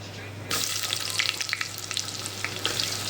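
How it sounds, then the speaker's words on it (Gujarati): Onion added to hot masala for soybean biryani bursts into a loud, steady sizzle and keeps frying, with scattered crackles and pops over a faint low hum. "તો હવે મસાલા થઈ જાય એટલે આપણે એમાં ડુંગળી નાખી દેવાની"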